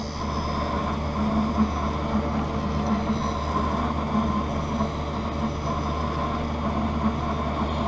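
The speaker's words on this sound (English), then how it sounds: "So now the lens is going onto the bevel wheel as the battery starts to die." A lens edger's bevel wheel grinds an eyeglass lens for a Ray-Ban 4165 Justin frame, running on a weakening battery: a steady, droning motor hum with a gritty grinding texture, continuous and fairly loud throughout with no voices.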